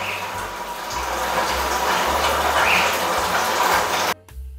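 Water from an aquarium water change system splashes steadily into fish tanks in a fish room, a loud continuous pouring that cuts off abruptly near the end.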